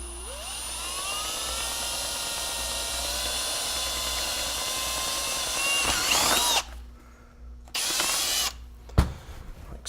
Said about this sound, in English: we're going to take the drill and we're going to drill through the outside